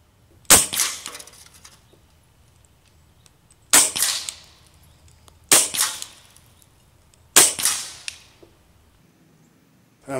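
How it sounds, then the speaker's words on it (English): A Hatsan Blitz .22 full-auto air rifle fires four separate semi-auto shots, each a sharp, loud, close crack with a brief decaying tail, spaced about two to three seconds apart over quiet background. "I'm gonna take a couple of semi-auto shots just to see where I'm hitting."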